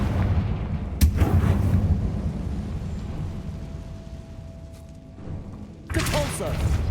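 A Confringo fire blast spell in Hogwarts Legacy bursts out as a sharp, booming impact near the start, then rumbles beneath ongoing game ambience before another burst of noise near the end.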